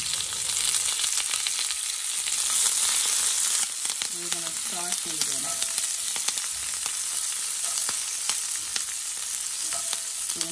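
Seasonings sautéing in a covered pot on the stove give a steady, close sizzle, with a few clinks and scrapes of a utensil stirring partway through.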